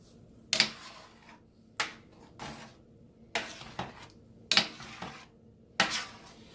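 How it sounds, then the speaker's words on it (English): Gravy being stirred in a pan, with a utensil scraping the bottom: sharp metallic scrapes and clinks come in about six evenly spaced strokes, close and fairly quiet, with no voices. "while I'm mixing here, I'm kind of scraping the bottom a little bit"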